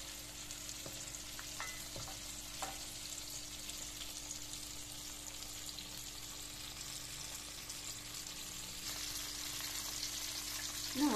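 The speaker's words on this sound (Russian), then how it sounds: "Переворачиваем на другую сторону и также обжариваем с другой стороны." Steady sizzling and crackling of chicken liver frying in a pan, with a few soft utensil clinks and a faint scrape toward the end.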